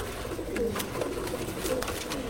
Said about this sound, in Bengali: এটাও স্বপন ভাইয়ের একটা কবুতর, এটা আমার বাসায় লাগানো বাচ্চা আর কি।